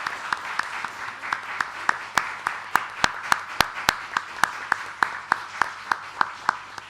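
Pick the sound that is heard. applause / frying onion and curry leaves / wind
applause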